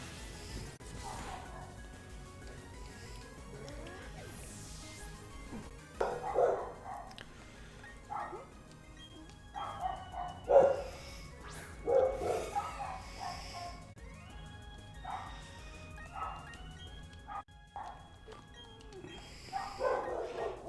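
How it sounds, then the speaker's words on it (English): A dog barks intermittently in the background, a few scattered barks and yips over a busy, faint backdrop. "I have a feeling the dog is barking"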